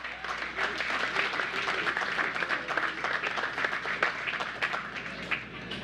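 Audience applauding the young St. Joseph's Convent singers from Port of Spain as they exit at the commissioning ceremony of the Diego Martin–West Moorings Interchange: steady, dense clapping from a sizable crowd, sustained and even at a moderate distance.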